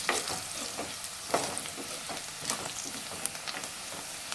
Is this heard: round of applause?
no